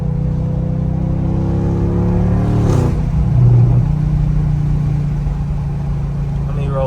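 An Audi S8 with bolt-on exhaust mods idles with a deep burbling rumble, then revs sharply once to a loud roar before settling back, heard from nearby.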